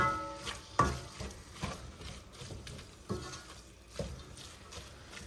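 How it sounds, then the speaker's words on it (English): Collard greens frying in a pot, with a low sizzle under repeated stirring clatters and scrapes spaced a second or so apart, moderately close and fairly quiet. "allow it to fry a little bit"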